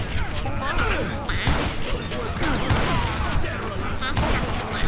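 Gunfire in the Western shooter video game Call of Juarez Gunslinger: dense, rapid volleys of shots crack over a busy battle din, loud and continuous, with faint game dialogue mixed underneath.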